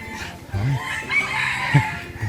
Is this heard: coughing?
no